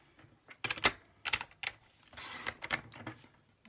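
Cardstock is cut for handmade cards in a short run of crisp snips and clicks with a brief scraping slide midway, close and fairly quiet, with no talking.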